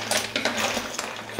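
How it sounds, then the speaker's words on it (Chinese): A metal pot lid comes off a pot of clams cooked with luffa, giving a few clinking, scraping metallic knocks, close and brief, ending in a sharper clank. "好，现在时间到，打开锅盖"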